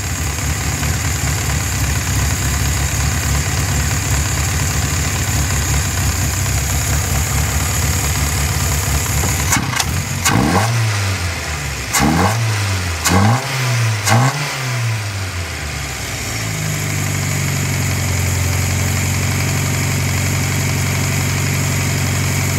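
An Alfa Romeo engine that has just had its idle screw adjusted runs at a steady, close-up idle, broken midway by several sharp blips of revving before settling back to a smooth, even idle.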